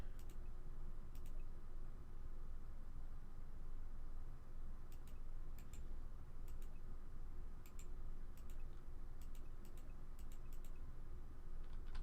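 Sharp, sparse clicks from a computer mouse or keyboard during a session of modded Minecraft sit over a steady, loud background hum, arriving in small irregular clusters.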